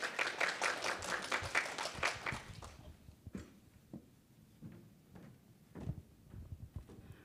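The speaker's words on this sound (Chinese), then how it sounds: "我们掌声欢迎郑佳慧经理" An audience at a Taiwan Excellence Awards briefing in Taipei applauds to welcome a manager to the stage: dense, loud clapping for about three seconds, then thinning to scattered claps and faint room noise.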